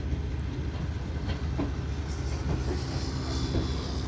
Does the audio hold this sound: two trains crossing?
yes